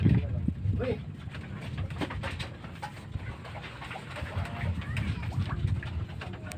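Pigeons coo and birds call all around at a steady level at Laguna de Bay lake, with people talking over the flock the whole time.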